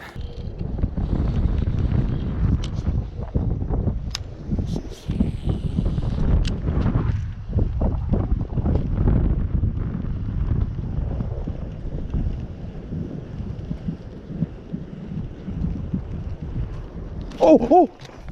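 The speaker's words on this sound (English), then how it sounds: "The wind's kind of blowing pretty good here" Strong wind buffets the microphone beside a lake while fishing, a continuous low roar with gusts rising and falling throughout, and a brief sharper sound near the end.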